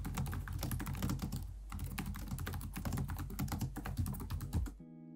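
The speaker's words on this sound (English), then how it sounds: "Here's how the keyboard sounds." Steady rapid typing on the keyboard of a 2020 HP Omen 15 gaming laptop, with close, soft key clicks in a continuous, uneven rhythm before stopping abruptly near the end.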